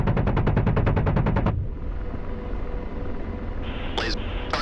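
An Apache helicopter's cannon in a combat video game fires a fast, loud burst of rounds at an armored vehicle. The burst stops abruptly and is followed by a rumbling roar, with a short radio-like electronic tone near the end.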